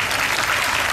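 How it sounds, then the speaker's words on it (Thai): Audience applause at a Thai stage event for a song tribute, a dense, steady wash of many hands clapping throughout, fairly loud and unbroken. "ขอเสียงปรบมืออีกครั้งนะครับสำหรับคุณ"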